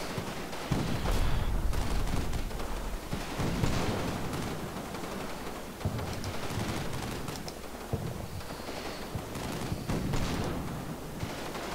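MG42 machine gun bursts rattle in the WWII strategy game Combat Mission, set in a January 1945 attack on the German mainland, with dense overlapping fire and distant explosions continuing steadily and loud throughout.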